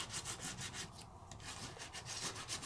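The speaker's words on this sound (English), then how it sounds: "you can rub all over so it gets your whole impression" A small tool rubbed firmly back and forth over a sticker to transfer its impression, giving a continuous, close, scratchy rasp with rhythmic strokes and a brief pause partway through.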